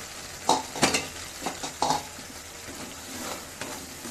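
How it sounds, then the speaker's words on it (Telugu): Ground masala paste with green chillies frying in a pan, a soft sizzle under scattered stirring scrapes and a few sharp utensil clacks against the pot, close and moderately loud, with no voices. "ఇది నూరిన మసాలా ఇది ఫ్రై చేసుకోవాలి బాగా."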